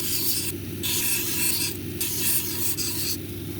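Owyhee jasper cabochon ground against a spinning grit wheel, a steady close rasping scrape with brief shifts in pressure across a few seconds, no voices.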